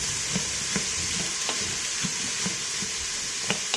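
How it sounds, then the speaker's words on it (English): Chopped vegetables sauté for a plant-based spaghetti sauce in a very hot pan, giving a steady close sizzle with periodic soft stirring scrapes and clicks. "So while that's sauteing"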